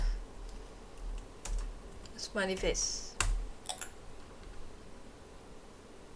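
Computer keyboard keys clatter in short bursts while a chat message is typed, brief clicks scattered around a voice speaking quietly in the room.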